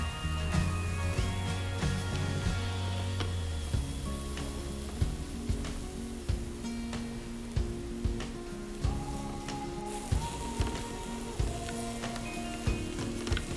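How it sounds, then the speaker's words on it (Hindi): A batch of moussaka ingredients, eggplant and minced meat, sizzles steadily in a pan, with a continuous crackling fry and occasional sharper pops over a faint tonal background. "ये फ्राई हो चुका है। अब दूसरा बैच भी हम फ्राई कर लेंगे।"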